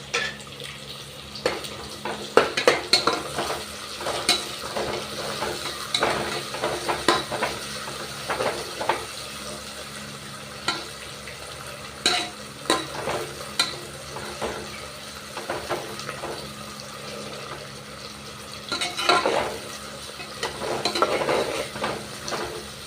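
Tomato frying in a pan for kuska, a soft sizzle beneath repeated clinks and scrapes of a spoon stirring, in irregular bursts, moderately close with no talk.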